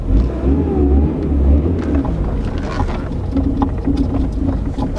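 A Volkswagen Golf engine hums and revs as the car pulls away in first gear, a loud, rough low drone close by with a rising whine.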